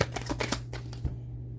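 Tarot cards being shuffled, a quick run of crisp riffling flicks lasting about a second before falling quiet, close and fairly soft over a low background hum.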